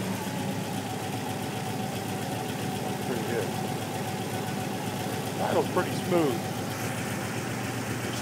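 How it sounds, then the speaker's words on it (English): A 1959 Lotus Super 7 clone's engine, with a big cam and carburettor, idles steadily at 900 RPM with a low, even rumble throughout, and someone talks briefly over it near the middle. "it's idling at 900 RPM"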